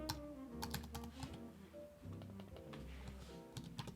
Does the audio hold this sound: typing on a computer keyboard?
yes